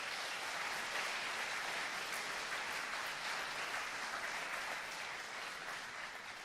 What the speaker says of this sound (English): To the coaches, how about a round of applause for all of our coaches?